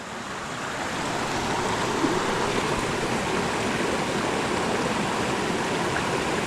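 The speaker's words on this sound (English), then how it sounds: "This is the creek." A creek at the trailhead of a mountain trail in the Nantahala Forest near Rufus Morgan Falls, flowing as a steady, broadband rush of water that holds constant and fairly close with no talk over it.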